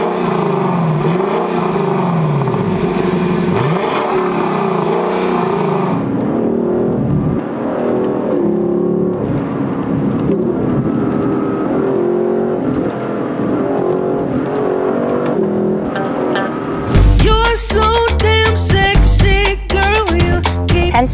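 A Lexus LC sports car engine revs hard, building to a loud snarling roar, then sharp repeated blips and crackles near the end.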